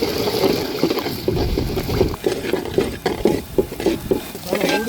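Nine eggs stir-fried in a pan with a metal spatula, scraping and sizzling steadily up close, the stirring strokes repeating in an uneven rhythm with no talk.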